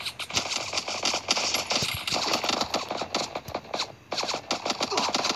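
Rapid automatic gunfire in the Free Fire battle royale game, a dense, continuous rattle of shots from close by with only a brief gap.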